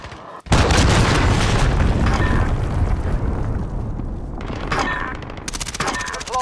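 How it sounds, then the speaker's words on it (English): A cruise missile strike explodes in a military shooter game, opening with a sudden loud blast that rolls into a long, dense rumble, with sharper crackling bursts near the end. "Allied cruise missile away."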